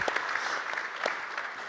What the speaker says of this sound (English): Round of applause for these great builders here.